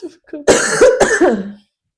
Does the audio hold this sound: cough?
yes